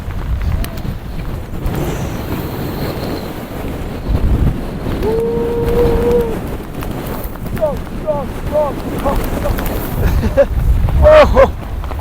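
Strong wind roars across an exposed fell top in the northern central Lake District, a constant buffeting rush against the microphone with a few faint higher tones passing through.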